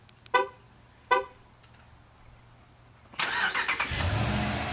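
A 2011 Dodge Ram 1500 Laramie Longhorn 4x4 pickup is started by remote: two short horn chirps sound, then after a pause the engine cranks and settles into a steady, close, loud idle.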